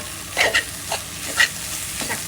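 Spinach frying in a pan sizzles steadily, with several short scraping bursts as it is stirred, close and alone without any talk.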